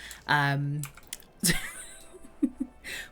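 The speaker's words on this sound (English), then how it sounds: "I am clicking so much." Rapid computer mouse and keyboard clicking during EverQuest II play, in short bursts with soft giggling and a hiccup-like voiced sound between them.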